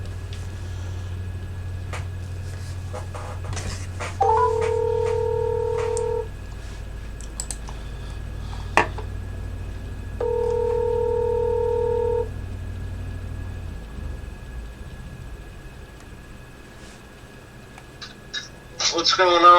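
Telephone keypad tones dialing a call, two clear bursts of touch-tone beeps a few seconds apart over a steady low hum, with a voice speaking near the end.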